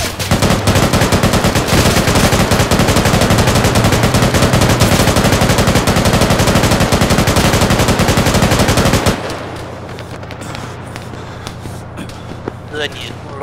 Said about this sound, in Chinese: 开火了。